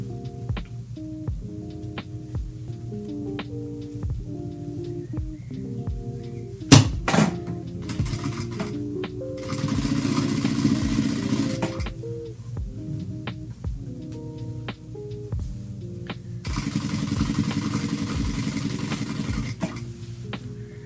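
A sewing machine stitches a self-binding quilt in two sustained runs of rapid, even mechanical whirring, separated by quieter pauses with clicks and handling, close and moderate in level, with no talk.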